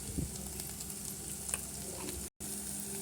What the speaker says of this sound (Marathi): ह्याच्यात 2 चमचे आपण गरम मसाला टाकतो आहे आणि बरं त्याला फ्राय करायचं.